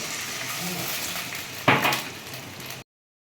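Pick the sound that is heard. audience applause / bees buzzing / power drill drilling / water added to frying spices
water added to frying spices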